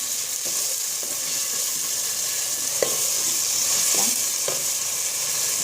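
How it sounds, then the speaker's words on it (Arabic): Onions fry in fat with a steady close sizzle, broken by a few scraping clicks from a utensil stirring the pan. "فوالا ندير البصل تعطيه هكذا شويه مع سمينتهم"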